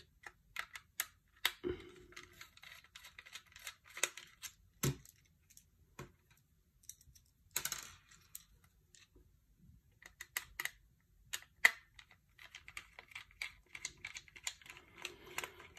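Small screws being pulled from an Xbox Series X controller during a Battle Beaver stick installation, heard as scattered light clicks and taps close to the mic, with short bursts and quiet gaps between them.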